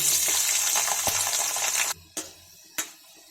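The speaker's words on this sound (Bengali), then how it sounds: "এবারে আমি কপিটা ভেজে নেব" A loud, steady sizzle of cauliflower frying in mustard oil, then it cuts off abruptly, leaving a couple of sharp clinks.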